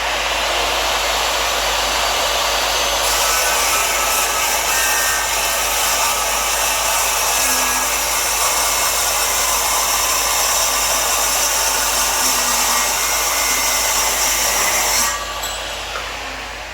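An 8-inch metal-cutting circular saw fitted with a Diablo carbide blade runs at full speed and cuts, giving a loud, steady high-pitched whine that holds for about twelve seconds before dropping away as the blade spins down.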